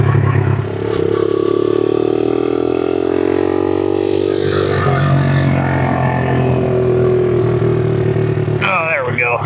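A Honda XL75 motorcycle engine runs loud and steady after sitting long in a shed, a continuous close hum that shifts pitch midway, with a person talking over it throughout.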